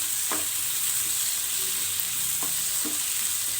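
Chopped tomato and green chilies frying in a pan, with a constant close hissing sizzle and a few soft scraping stirs of a spoon across the pan, no voices.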